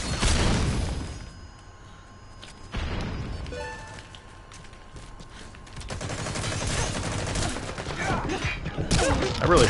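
Flashbang stun grenade going off in the online shooter Metal Gear Online, a dense burst of game gunfire and booms with sharp blasts and a ringing tone, loud and continuous over about ten seconds.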